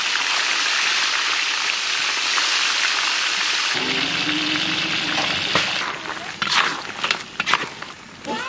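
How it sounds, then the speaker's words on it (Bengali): Silver carp fish heads fry in hot mustard oil in a wok, giving a loud, dense sizzle that carries throughout and turns to crackly, popping spatter toward the end. "এখন দুজনে মিলে মাছের মাথা ভাজবো কড়াই গরম হয়ে গেছে সর্ষের তেল"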